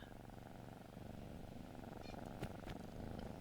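A happy cat purrs steadily and close in a greenhouse within the game Shroud of the Avatar, a low rhythmic rumble with a few faint clicks near the end.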